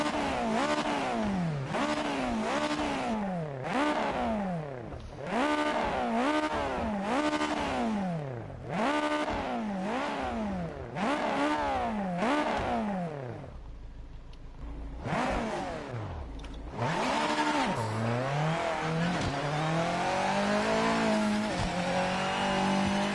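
A Japanese GT500 race car engine revs in a racing video game, rising and falling in repeated pulls. It drops briefly, then returns to a sustained, raspy, loud drone with no voices.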